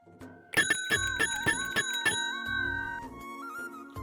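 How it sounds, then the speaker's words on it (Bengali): A doorbell chimes at a house door, a run of bright ringing strikes in quick succession followed by a sustained electronic melody tone, heard clearly alone without any voices. "কলিং বেল চাপতেই দরজা খুললেন লতা খানম।"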